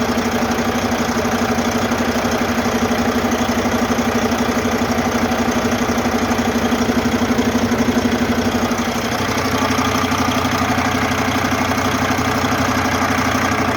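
A 2004 Freightliner diesel truck engine idles steadily with a low, even throb; partway through the rumble shifts slightly and continues without talk.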